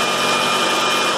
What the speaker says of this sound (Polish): W momencie, gdy uruchomimy tą piłę i przystawimy zapalniczkę